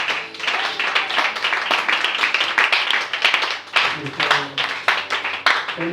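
Audience in a French-speaking church service clapping and cheering to welcome first-time visitors, dense sustained applause with a crowd murmur running underneath throughout.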